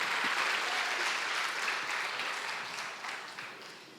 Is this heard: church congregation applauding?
yes